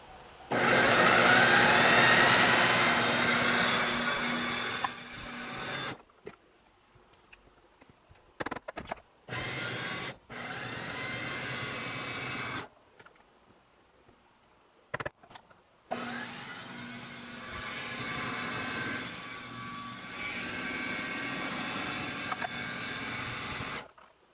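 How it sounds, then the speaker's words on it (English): Food processor pureeing fresh green peppers runs in loud, close bursts: a long continuous whir, then several short pulses separated by silences, followed by another sustained run. "So I am going to get these in the food processor. I'm going to puree these till they're"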